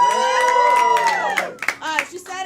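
At a comedy club, the crowd gives a loud burst of cheering, with a long high whoop over clapping. It breaks into scattered shouts and yells as it fades over about two and a half seconds.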